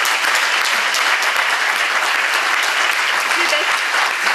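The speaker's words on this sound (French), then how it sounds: "Je vais lui demander de l'applaudir très fort." A dense, loud burst of audience applause for chef Sébastien Mahuet at a Gault Millau d'Or event, continuous, even clapping from a large crowd that fills the space throughout.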